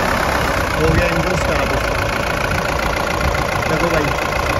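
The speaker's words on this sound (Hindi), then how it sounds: "अब ना हम आपको इसकी थोड़ी साउंड भी सुनाते हैं, तो अभी इसको ना स्टार्ट करते हैं फिर आपको इसकी साउंड सुनाते हैं भाई" A 2016 Mahindra Bolero ZLX special edition with a 1500 cc diesel engine idles steadily, a loud, dense, even clatter close by with no pauses.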